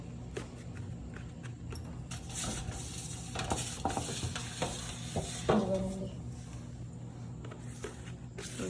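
Mango pieces for avakaya pickle are tossed and coated in spice powder with oil, giving continuous scraping, stirring and light clinking of utensils, moderately close and busy throughout.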